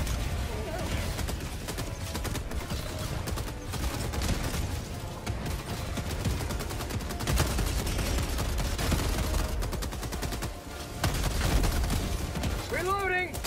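Steady gunfire from Helldivers 2 crackles through a thick battle mix, with rapid shots and a sentry gun firing near and loud for the whole stretch, and voices are heard in among the noise.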